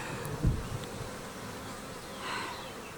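Honey bees hum steadily around an opened beehive, a close, continuous buzz with a soft thump near the start and no voices.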